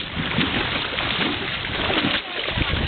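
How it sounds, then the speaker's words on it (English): A dog splashes and plays in water, with choppy, continuous sloshing and splattering close by while people talk over it. "Jackpot, he's playing. Are you having fun, Jackpot? Splash, splash, splash."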